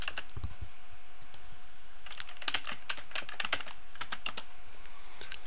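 A user ID and password are typed on a computer keyboard: quick, close clusters of light key clicks in uneven bursts, with no voices.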